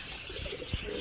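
Pigeons kept in a loft, a male sitting on eggs, give a soft low coo alongside brief chirps, fairly faint against a steady background hum.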